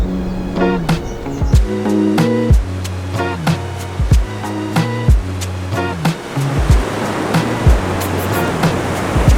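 Ocean surf at Siargao, with a continuous wash of breaking waves and a steady roar, loud and close, and recurring tonal thumps over the noise.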